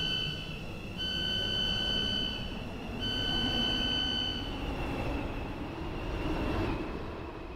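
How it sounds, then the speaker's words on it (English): Train passing through a station in the Stepford County Railway video game, a steady loud rolling rumble with sustained high whining tones from the wheels and motors lasting throughout, swelling slightly as it runs past. "train now approaching Platform 2 does not stop here"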